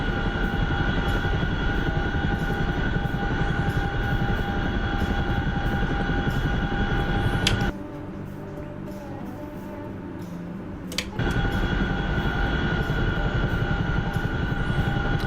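A heavy Chinook helicopter in a video game gives a loud, continuous rotor thrum with a steady whining tone, cutting to a muffled lull midway before resuming at full strength.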